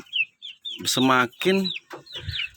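Chickens clucking in a poultry farm, with several close, loud bursts of clucks and squawks in quick irregular succession and softer chirps between them.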